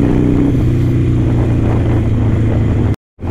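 A Harley motorcycle being ridden gives a steady, loud, throbbing engine drone up close, then cuts to a brief silence near the end.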